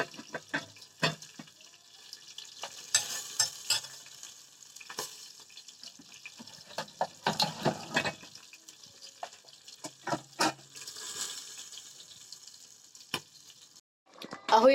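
Tomato sauce sizzles and bubbles faintly in a pan, a soft steady hiss broken by stirring clatters and brief knocks.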